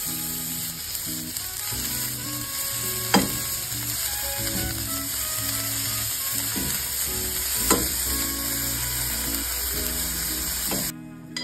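Epazote, onion and zompantle flowers fry in a pan, a constant close sizzle with a few sharp clinks and stirring scrapes, plus a steady low background hum and a sudden change near the end.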